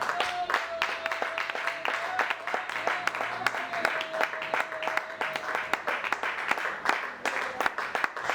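Congregation in a church applauding during a French-language service, a dense wash of many hands clapping steadily throughout, with a faint sustained tone and some voices underneath.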